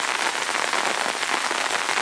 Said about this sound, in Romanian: câtă forță a dat această ploaie și a revigorat totul pe pământ